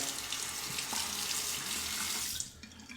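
Tap water runs steadily into a sink as an electric detail razor is rinsed beneath it, a continuous close splashing hiss that cuts off abruptly near the end.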